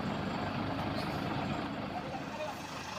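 A Volvo trailer truck hauling heavy equipment, engine running steadily with a broad, constant diesel rumble up close, a continuous low drone with no pauses.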